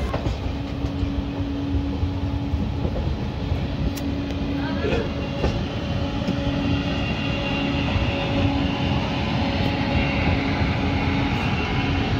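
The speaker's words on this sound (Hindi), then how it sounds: "বন্ধুরা, আমাদের ট্রেন এখন স্কিপ করবে লুনি জাংশন স্টেশন।" A Humsafar Express train runs through Luni Junction without stopping: a steady, loud rumble of wheels on rail heard from on board, with a sustained droning tone throughout.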